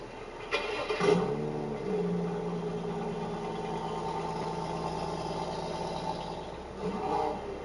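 A car engine cranks and catches, then settles into a steady idle with the exhaust burbling close by, with a brief rev near the end.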